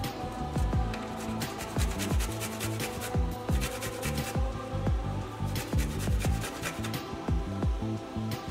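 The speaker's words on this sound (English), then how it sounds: "Then I'll grate the garlic" Garlic grated by hand while making a vegetable soup, a steady run of rhythmic rasping scrapes close by, repeating about once or twice a second throughout with no talk.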